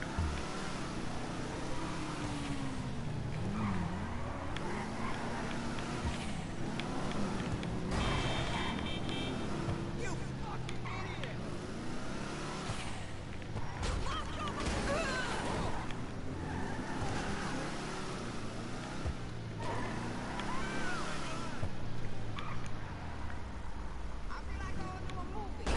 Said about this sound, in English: It's just a case of driving it around the block now and saving it.